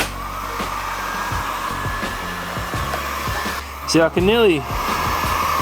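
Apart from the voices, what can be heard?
heat gun heating a car front bumper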